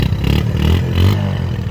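A Bajaj Discover 135 motorcycle engine revs up close, a loud, steady, throaty roar with a rising pitch that swells and settles over a couple of seconds, with no voices over it.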